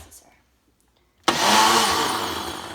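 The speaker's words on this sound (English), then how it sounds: "I'm just going to blend this up a few times to make sure that it gets really fine." After a second of near silence, a Ninja blender starts abruptly and whirs loudly and steadily as it grinds dry macaron ingredients, ground almonds and powdered sugar, into a fine powder.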